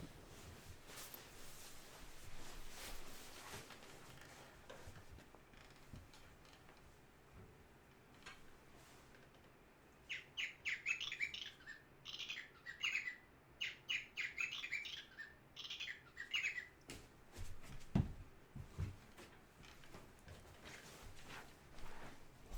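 A noisemaker imitating a jay's call gives repeated short, bright chirps in bursts against a faint, quiet background, then falls away, with no talking.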